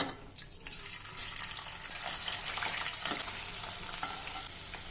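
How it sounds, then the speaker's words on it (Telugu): Chicken pieces for homemade pickle deep-fry in hot oil over a medium flame, giving a steady, close crackling sizzle with sharper pops, and no talk. "వీటిని మీడియం ఫ్లేమ్లో పెట్టి డీప్ ఫ్రై చేసుకోవాలి."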